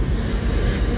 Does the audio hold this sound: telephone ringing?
no